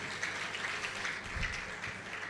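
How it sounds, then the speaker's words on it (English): Faint, distant applause for film directors, a steady smattering of claps that runs evenly throughout with no voices over it. "Please, a round of applause for the directors."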